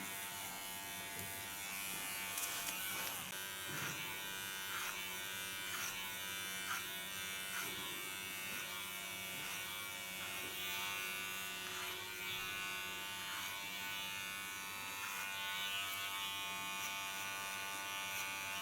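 Electric hair clipper cutting nape and side hair during a short asymmetric haircut, a steady close buzz running continuously with slight shifts in tone as it moves over the head.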